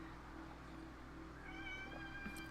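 A house cat meows in a drawn-out, rising call near the end, heard close over a steady low electrical hum in an indoor room.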